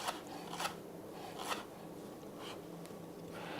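A knife slicing vegetables into thin strips on a cutting board, a handful of short scraping strokes spaced roughly every half second to a second, faint and close, with no talk.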